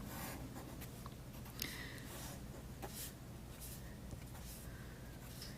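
Pen or marker scratching on paper or a board while graphs are quickly sketched by hand: faint intermittent strokes of uneven length over quiet room noise.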